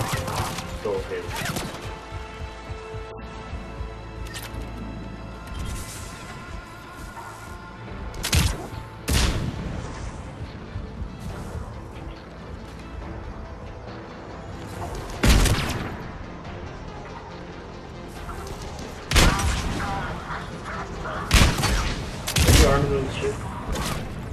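Turret gunfire in the Mass Effect 3 demo: loud, sharp broadband bursts and volleys of shots recur every few seconds over a dense, rumbling battle din, with voices faintly mixed in.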